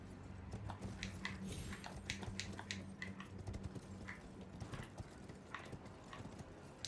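Horse hooves gallop in the video game Elden Ring, a rapid, rhythmic clip-clop of hoofbeats with a low rumbling bed, steady and fairly quiet throughout.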